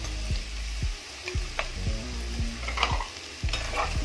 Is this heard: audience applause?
no